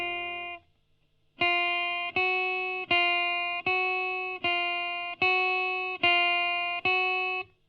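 A finger exercise played with sustain: a steady, evenly spaced run of about eight bright melodic notes, each held so it rings right up to the next, close and clean, after a brief faint note and pause.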